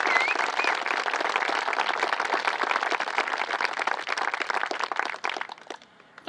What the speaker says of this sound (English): Can we please give our financial supporters a big round of applause?